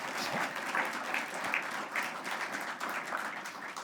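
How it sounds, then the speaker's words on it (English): An audience at a city leaders breakfast applauds state representatives, steady moderate clapping from a room full of people with no talk over it. "let's give them a round of applause because we know their job's not easy"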